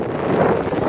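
Strong wind buffets the microphone in a steady, loud low rumble, gusting throughout with no clear voices.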